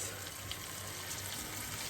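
Water that dried peppers were soaked in is poured into a pepper sauce, a steady, soft, hissing trickle of liquid running for a couple of seconds with no talking.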